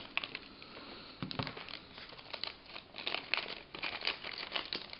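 Nintendo 3DS AR cards being pulled and unpacked from their packaging, with close crinkling and rustling of plastic and paper in uneven bursts, no talking.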